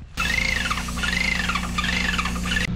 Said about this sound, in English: The backup generator's in self-test mode.